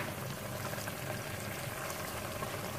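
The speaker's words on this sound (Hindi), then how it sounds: "आप लोग देख रहे हैं किस तरीके से ये हमारा मसाला भुन रहा है" Masala roasting in a pan for black masoor khichdi, a dense, even bubbling sizzle that holds steady and close for a few seconds without any voices.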